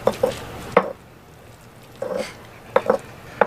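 Guacamole with basil mixed in a bowl, a few wet, squishy scrapes and soft clinks coming in short bursts with quiet pauses between them.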